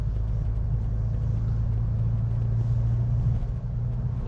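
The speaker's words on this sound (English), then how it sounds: "That exhaust just sounds so great." The engine and exhaust of a 2020 Hyundai Veloster N on a test drive, a steady low rumble that stays loud and constant from inside the car.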